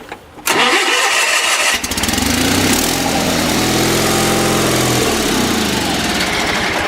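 A 10HP diesel engine on a Roper/Sears garden tractor cranks briefly, then catches and settles into a loud, steady, close running drone.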